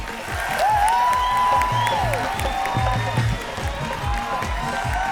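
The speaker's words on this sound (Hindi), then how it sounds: "थोड़ी और जोर से ताली बजाइए" A studio audience at a comedy show applauds and cheers loudly, with steady rhythmic clapping and whistles or whoops rising over it, sustained throughout.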